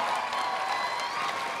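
An audience at a dance competition applauds steadily, a dense even wash of clapping with faint cheers, moderately loud and continuous throughout.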